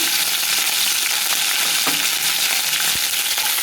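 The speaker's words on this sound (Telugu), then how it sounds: "జీలకర్ర వేగినాక కరివేపాకు కరివేపాకు చిటకలాడినాక కొంచెం కొత్తిమీర" Cumin seeds, curry leaves and coriander splutter in hot oil for chicken curry, a loud, dense crackling sizzle with scattered pops throughout, close up and with no voices.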